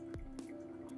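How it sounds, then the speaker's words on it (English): Water drips and trickles onto coffee grounds in a V60 pour-over, giving soft, quiet splashes and drips over a faint steady hum, with no talking. "I'm just doing really even, easy going spirals for my V60"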